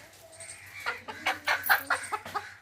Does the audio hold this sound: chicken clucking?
yes